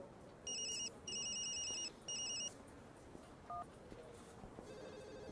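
A telephone rings in three electronic bursts, fairly loud over a quiet room with faint background noise, followed by a brief softer chirp.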